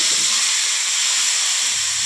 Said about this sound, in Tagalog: Bakit ba una kong ginigisa yung tomato?